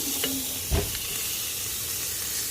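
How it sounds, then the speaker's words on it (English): A spoonful of ingredient sizzling in hot oil in a pan while a quick ten-minute meal is cooked, a steady close hiss with a brief louder burst as it drops in, no talk. "You want that to sizzle like that"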